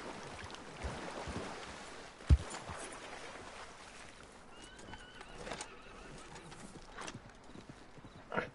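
Soft, rhythmic clip-clop of horse hooves in Red Dead Online, moderately quiet, with an occasional whinny and a sharp thud near the start under faint game ambience.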